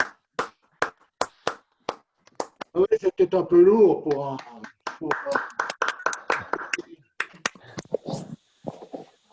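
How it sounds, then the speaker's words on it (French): Online participants in a Zoom session clap into their open microphones, producing sparse, sharp, uneven claps that come and go, while someone speaks French over the middle of the clip. "Je vous demande d'activer vos micros pour applaudir Michel."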